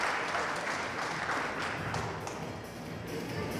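Applause at a sports award ceremony in Varna as athletes receive their awards from the mayor; a dense, continuous roar of clapping hands fills the room at even loudness, with no clear voices.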